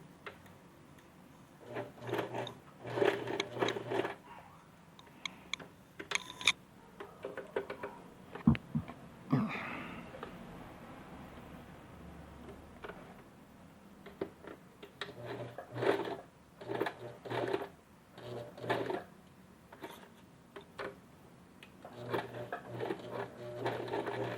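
Sewing machine stitching a straight stitch on a book cover, running in short irregular bursts with pauses and light mechanical ticking, fairly faint and close, with no talk.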